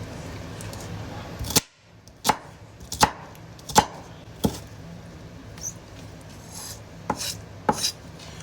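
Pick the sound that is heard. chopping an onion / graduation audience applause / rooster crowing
chopping an onion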